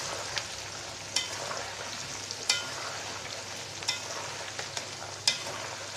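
Whole garlic and yellow mustard seeds fry in mustard oil under a steady soft sizzle, with a faint clink about every second as the mixture is stirred.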